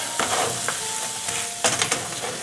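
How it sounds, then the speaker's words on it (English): Beef patties for a cheeseburger fry in a pan with a steady close sizzle, broken by a few bursts of louder crackling and scraping. "Then I'm just gonna put my meat on the fry pan."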